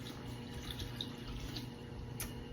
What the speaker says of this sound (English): And then I want about 360 grams of water.